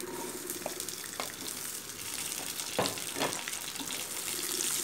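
Chilies, shrimp paste and tomato fry in oil in a wok for sambal terasi, giving a steady, dense sizzle with crackling pops that grows slightly louder toward the end.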